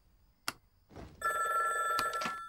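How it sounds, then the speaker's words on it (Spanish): A telephone bell rings loudly indoors in a long sustained burst with bright metallic tones, preceded by a sharp knock and brief rustle. "Llevan toda la noche llamando."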